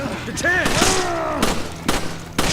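Resident Evil 5 gunshots ring out as a handful of separate sharp, loud reports spaced irregularly, mixed with game creature cries and other sound effects.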